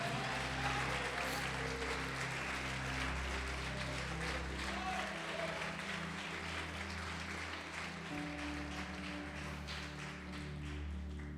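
Church congregation applauding during a Portuguese-language service, with sustained crowd clapping over a steady musical backdrop, continuous and fairly dense throughout.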